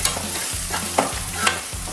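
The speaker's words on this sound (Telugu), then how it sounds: "కొంచెం పసుపు, కొంచెం అల్లం ఎల్లిగడ్డ పచ్చి వాసన ఉండే వరకు కొంచెం వేపండి" Turmeric and ginger-garlic paste fry and crackle in a pan for a South Indian mutton keema dish, with a steady close sizzle and several scraping strokes from a spoon stirring the paste. No one speaks.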